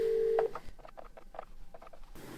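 A telephone number is dialed for a call: a steady tone is followed by a quick run of short, evenly spaced beeps, clear and close, with no voices.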